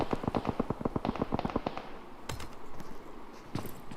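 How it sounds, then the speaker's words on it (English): Rapid bursts of gunfire from a PUBG Mobile esports match, a quick string of loud, evenly spaced shots followed by scattered single cracks and impacts. "Now SMT Shubham landing some shots on Rage Clan"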